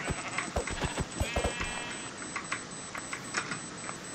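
Sheep in Minecraft give a few short, fairly faint bleats among soft clicking game sounds, with no talking.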